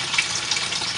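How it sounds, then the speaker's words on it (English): Running tap water gushes over a swirl filter as it is rinsed after soaking in bleach, a brief, close, steady splashing rush. "Take it out of the bleach water, let it rinse it off real good."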